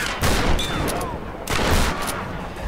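Gunfire in the video game Tomb Raider (2013) rings out in two loud, dense bursts of shots about a second apart, over a continuous game background rumble.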